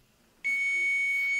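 A multimeter's continuity buzzer sounds while probing a MOSFET and VRM IC on a desktop motherboard, a single loud, steady high-pitched tone that starts abruptly and holds to the end.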